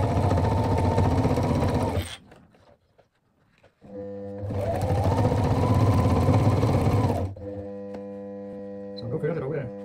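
A sewing machine stitches boat chair upholstery in two steady, loud runs of a few seconds each, separated by a short pause. A fainter mechanical hum is heard near the end.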